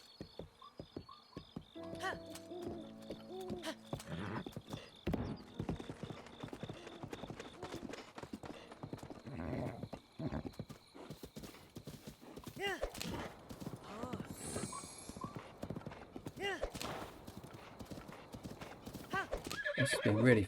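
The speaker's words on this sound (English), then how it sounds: "This horse does not control well at the moment." Horse hooves clip-clopping in steady rhythm in Zelda: Breath of the Wild, with a whinny early on, game music and effects layered underneath throughout.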